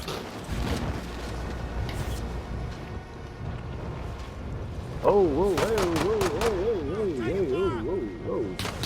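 Gunfire rattles in the video game Call of Duty: Modern Warfare, with bursts of shots early on and louder, denser firing from the midpoint, mixed with other in-game sounds.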